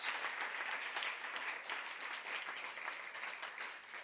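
A crowd at a Mico University College scholarship awards ceremony breaks into steady, continuous applause, many hands clapping together at a moderate, distant level.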